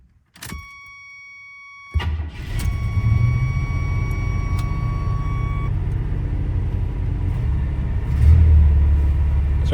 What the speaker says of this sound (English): I don't want to bang it into gear with it idling that high.